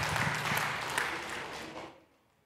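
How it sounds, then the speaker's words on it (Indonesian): Applause from the audience at a church couples' seminar, a steady burst of many hands clapping that fades out abruptly after about two seconds. "Kita berikan tepuk tangan."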